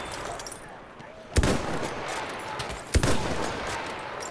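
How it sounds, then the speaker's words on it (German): Gunfire in the World War I shooter Battlefield 1 as two sharp, loud reports about a second and a half apart, each cutting through a steady wash of distant battle noise. "Aufpassen, Maschinengewehr."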